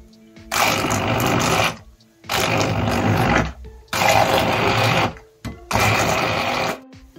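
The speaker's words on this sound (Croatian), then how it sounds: "i sada ćemo to da odradimo s ovim ručnim blenderom" A hand blender runs in four separate loud bursts, each lasting about a second or more, with short pauses between them, close by and alone.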